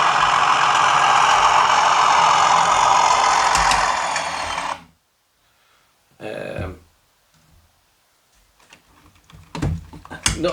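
Sound-equipped Bachmann Class 37 model diesel locomotive in Colas livery, a steady loud engine drone that spools and then cuts off abruptly, followed by short mechanical bursts and clicks.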